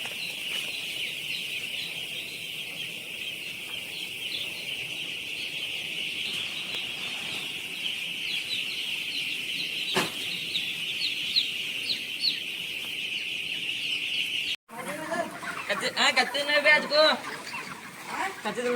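On a poultry farm, a large flock of broiler chickens around 37 days old keeps up a dense, continuous chorus of clucking with bursts of wing flapping. Voices join faintly near the end.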